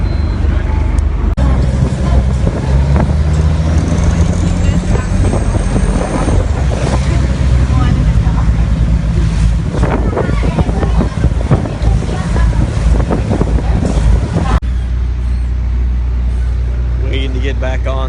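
A river cruise boat moves along with a loud, steady engine drone and low rumble. Wind buffets the microphone and water splashes, and voices talk over the noise in places.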